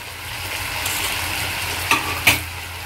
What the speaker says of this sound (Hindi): मैं इसको अच्छे से हिला लेती हूँ।